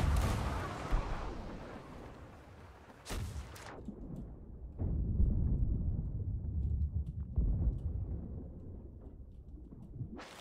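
Cannon fire in a pirate ship game: a heavy booming blast near the start, then further deep thuds and rumbles spaced across the clip, with no talk.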